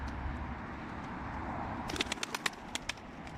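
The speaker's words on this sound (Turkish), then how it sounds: "Kuşlar da yerine iniyor." Against a low background hum, a quick series of sharp wing flaps sounds as tumbler pigeons land nearby after a morning flight, clustered near the end.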